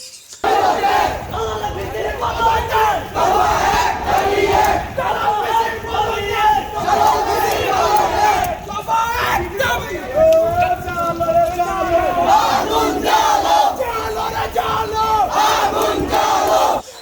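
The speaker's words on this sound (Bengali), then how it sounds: "আন্দোলনকারী শিক্ষার্থীরা মিছিল নিয়ে স্লোগান দিতে দিতে ১ নং গেটের অভিমুখে রওনা হয়" Crowd of protesting university students marching and chanting slogans in unison, a dense, loud, continuous mass of shouting voices with rhythmic surges.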